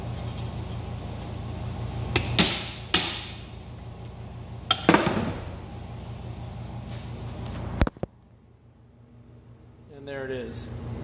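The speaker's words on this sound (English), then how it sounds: "You just need a hammer and a punch and drive it out." A hammer strikes a punch to drive a pin out of a Dodge Ram power seat motor actuator, giving four or five sharp metallic blows spaced unevenly over a low background hum, followed by a quiet stretch.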